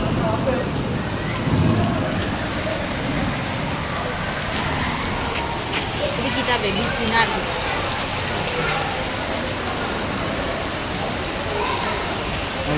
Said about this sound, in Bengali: এটা বজ্রপাত আর বৃষ্টি